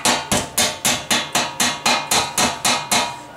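A hammer chipping slag off a weld on metal, twelve sharp, evenly spaced metallic strikes in a quick steady rhythm, loud and close with no talk.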